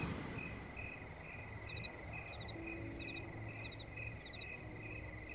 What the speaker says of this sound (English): hear the crickets, the occasional whoosh of a car.